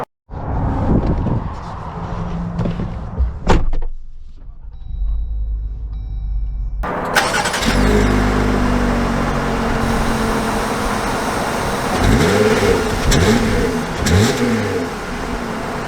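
A 2022 Jeep Wrangler RMT Off-Road engine cranks, catches and idles after a brief silence, then settles into a loud close idle punctuated by several sharp rising revs near the end.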